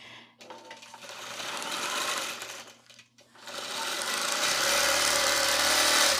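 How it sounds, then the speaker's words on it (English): A sewing machine stitches a quilt in two fast, buzzing runs, briefly stopping near the middle before starting again and running louder to the end. "let me just stitch the machine down"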